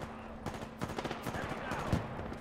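Gunfire in Titanfall 2 striking the player, a rapid burst of crackling automatic shots with a heavier impact near the end, quiet and somewhat distant, with a low constant hum underneath.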